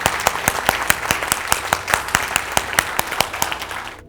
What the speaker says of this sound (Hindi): तो एक बार जबरदस्त तालियां आप अपने लिए मारिए यार